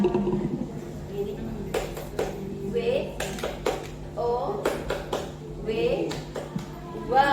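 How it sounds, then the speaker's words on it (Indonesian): A group of teachers gathered in a staff room clap together in short, sharp bursts amid lively talking and exclamations. "2 kali tepuk wow, semangat."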